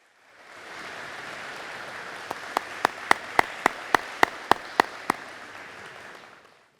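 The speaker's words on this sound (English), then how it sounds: "give them a round of applause" Audience at a high school college signing ceremony applauds steadily, with a soft wash of many hands and a run of sharp, evenly spaced loud claps from someone close by in the middle.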